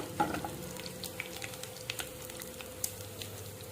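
Urad dal, mustard seeds and cumin frying in hot oil: a faint, steady sizzle with scattered small pops and crackles and a few light clinks, close but quiet throughout.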